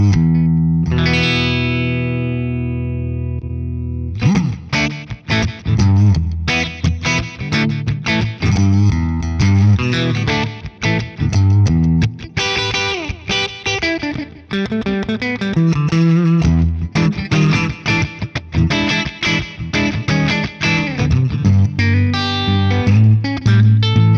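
Electric guitar played through a Wampler Catacombs delay/reverb pedal, a sustained chord ringing out and decaying, then busy strummed and picked phrases with echoing repeats and wash, loud and alone.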